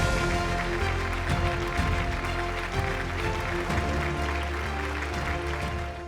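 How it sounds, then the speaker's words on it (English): Applause from an audience at a business awards ceremony, a steady wash of clapping under loud stage music with a booming low beat, lasting about six seconds. "With a huge round of applause, ladies and gentlemen, announcing the winner"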